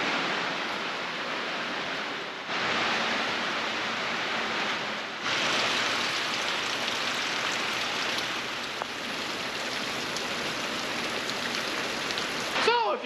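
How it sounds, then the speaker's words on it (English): Heavy rain pours steadily, a dense continuous hiss with a couple of brief shifts in intensity, and no voices. "It's pouring outside and people are here."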